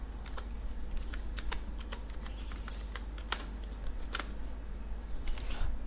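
Fingers tap out a password on a computer keyboard in a quiet room, a steady run of light, close keystroke clicks with a few sharper presses standing out.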